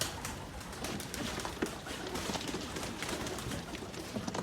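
Pigeons coo softly nearby in a loft, low repeated calls rising and falling over a continuous rustling background, with no voices.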